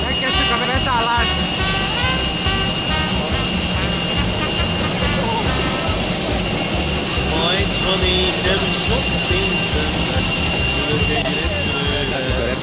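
Airliner jet engines whine and roar steadily near an airport gate during boarding for a flight to Hurghada, with high tonal whistles above a broad rumble, while people talk over the noise.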